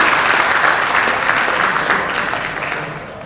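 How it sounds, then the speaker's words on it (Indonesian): A conference audience at an iCIO Community and Ministry of Communications discussion gives lively applause, a dense, loud wash of many hands clapping that holds strong before tapering slightly toward the end. "mari kita beri tepuk tangan yang meriah untuk kita semua"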